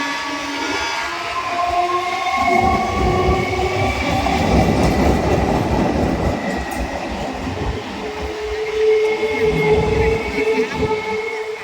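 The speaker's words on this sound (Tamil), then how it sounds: "இதுதான் நம்ம பொன்னேரி ரயில்வே ஸ்டேஷன்" A train passes through Ponneri railway station in Tamil Nadu, its steady rumbling and rolling wheel noise loud and close, with a brief horn-like tone. It runs continuously throughout, and no one speaks over it.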